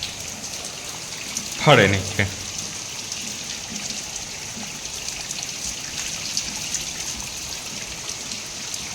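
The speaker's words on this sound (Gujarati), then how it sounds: "આજનો વરસાદ" Rain falls steadily in a village, making a continuous hiss of drops that lasts the whole stretch, with a brief burst of speech near the start.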